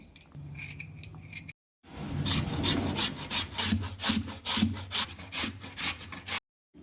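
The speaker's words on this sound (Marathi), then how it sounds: "आपण बटाटा किसून घेऊ" A large peeled potato is rubbed against a hand grater in a string of quick rasping strokes, each scrape close and distinct, with a short pause near the start.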